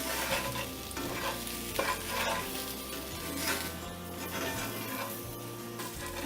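Potatoes frying in a pan with ground spice powder, continuous sizzling under steady stirring and scraping, close and moderately loud with no talk.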